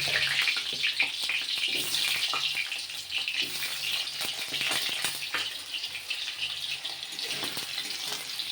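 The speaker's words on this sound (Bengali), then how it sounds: "আলুটাও ভেজে নেব" Potatoes fry in a pan with a loud, dense, continuous sizzle up close, dotted with small pops and spatters, with no talking.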